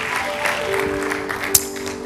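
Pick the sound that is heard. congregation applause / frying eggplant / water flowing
congregation applause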